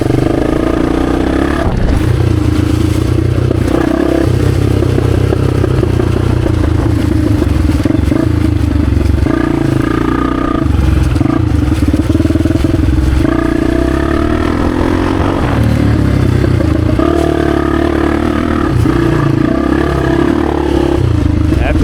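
A 1996 Honda XR250 dirt bike engine drones steadily and loudly while riding through woods, its pitch rising and falling slightly as the rider moves, with some clatter mixed in.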